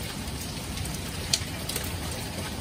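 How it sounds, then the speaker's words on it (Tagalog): Hail mixed with rain falling outdoors: a dense, steady hiss of rain, with one or two sharper ticks standing out from it and no talking. "Ulan na may hail, oh."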